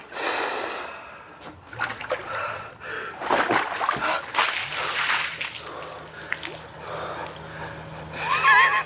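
Water splashes and sloshes as a person lowers into an ice bath tub, with sharp gasps and heavy breathing up close and brief voices in between.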